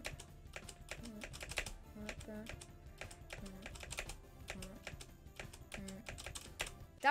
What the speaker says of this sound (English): My keyboard's probably really loud.